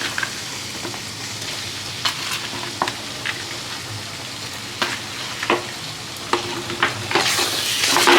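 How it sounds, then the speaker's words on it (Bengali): Chopped capsicum and paneer are stir-fried in a pan, a loud continuous sizzle broken by repeated scraping and clacking of a spatula against the metal. "আবার ভালো করে কষা হবে।"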